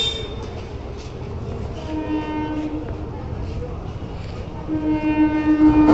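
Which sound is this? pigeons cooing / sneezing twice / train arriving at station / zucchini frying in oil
train arriving at station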